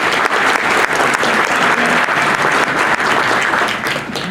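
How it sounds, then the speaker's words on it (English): Warm audience applause at a conference as a speaker is welcomed on stage, a dense, steady wash of many hands clapping throughout, loud and sustained without talk. "Giving a warm applause."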